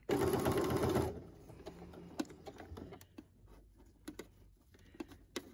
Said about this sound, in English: So I back stitch a couple of times.